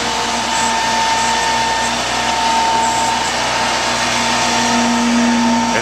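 A container truck's powered bed shifting into transport position after a unit is chained down gives a steady, loud hydraulic motor whine with a constant hum and no pauses, close to the microphone.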